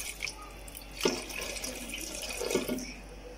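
Water runs and splashes faintly in a steady trickle, with a couple of slightly louder pours into minced meat in a pan, no talking.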